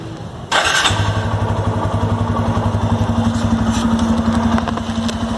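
A motorcycle engine is started after an engine flush. It catches with a sudden thump and then settles into a loud, steady, close-up idle with a fast, even pulsing beat.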